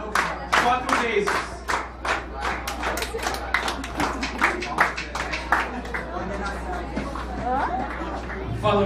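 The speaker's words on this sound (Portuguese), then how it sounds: "Essa aqui vai precisar das suas palmas de novo." Hands clap in a steady rhythm close by, crisp and evenly spaced, while voices talk over the claps and a low hum runs underneath throughout.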